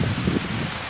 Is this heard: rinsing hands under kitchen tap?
no